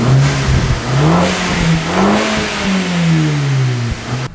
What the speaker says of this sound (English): it sounds a lot more throatier, a lot of a deeper tone from the exhaust, and you're getting a lot more turbo noise from the induction kit